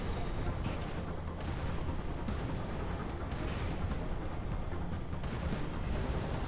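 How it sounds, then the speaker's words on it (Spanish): Tank cannon fire against Banshees in the video game Halo 3: ODST, a continuous loud barrage of booming blasts and rumbling explosions filling the whole stretch without pause. "Los Banshees se mueren con dos disparos de tanque."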